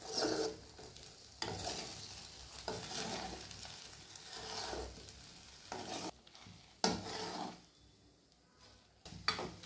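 Egg being gently stirred and fried in a pan for a spicy egg paneer fried rice, giving a steady soft sizzle with repeated scraping strokes of stirring, close and moderately quiet, with no talking.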